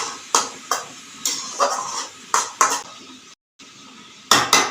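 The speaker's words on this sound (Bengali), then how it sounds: "এভাবে নেড়ে ছেড়ে দেবেন কপিগুলো মজে যাবে" A spoon clanks and scrapes around a pan of cabbage and potato curry in sharp, irregular strokes, close and clear, with a brief gap near the end before a cluster of quick clatters.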